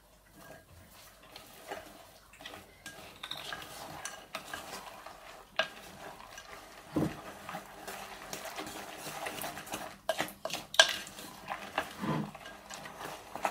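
Candied fruit, dried fruit and raisins being mixed for a Christmas cake, soft wet squelching and scraping with irregular clicks of a utensil against the bowl, fairly quiet and close.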